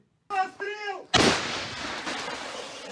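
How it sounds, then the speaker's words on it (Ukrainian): A brief voice, then a single powerful 122 mm artillery gun blast booms close by at a firing position, its roar and rumble trailing off over the following seconds. "власне, ось полетів 122 мм снаряд на голови окупантів."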